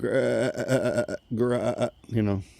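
Person imitating a tree frog call with the voice: three drawn-out, croaking vocal bursts separated by short pauses, close and fairly loud.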